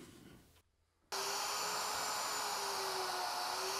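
A router cutting mortises in a wood workpiece, starting after a brief quiet gap with a sudden loud, steady high-pitched whine and cutting hiss that holds evenly to the end.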